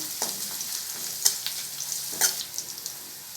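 Crushed garlic and dried red chillies browning in oil for a hotel-style snake gourd kootu, a bright continuous sizzle with a couple of distinct spatula scrapes against the pan, heard close and alone.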